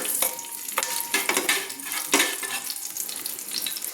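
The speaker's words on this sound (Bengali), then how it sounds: "এবার আমি একটু খুন্তি দিয়ে নেড়ে নিলাম।" Green chillies frying in a pan are stirred with a spatula, making a close, busy sizzle broken by scraping strokes and sharp scrapes of metal, with no talking.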